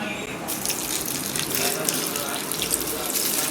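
Hot water pours over cauliflower in a kitchen to drive out worms, a steady close gushing stream after a brief quieter start, with faint voice nearby.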